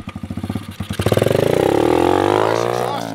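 An Apollo X15 RFZ 125 beginner dirt bike engine pops at idle, then revs up into a loud, sustained, rising drone that holds steady and eases slightly, close to the microphone with no talking.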